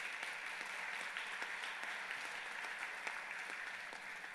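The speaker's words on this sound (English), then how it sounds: "If you could please give them a round of applause, I'd appreciate it." Applause at a town meeting for the clerks and tellers, a full room of hands clapping in a steady, even wash, heard faintly from a distance with no talking over it.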